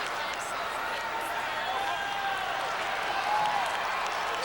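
Spirited crowd cheering at a 1991 Class A high school football final between East Lansing and Brother Rice, a steady wash of distant stadium noise that swells slightly and stays broad and continuous throughout, with no close voice standing out.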